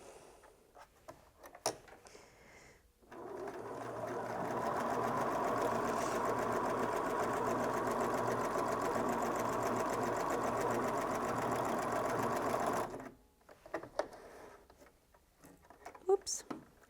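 A Bernina S-325 sewing machine stitches through four layers of 10-ounce denim in a steady, rapid mechanical run of about nine seconds, close and even, framed by quieter handling noises before and after.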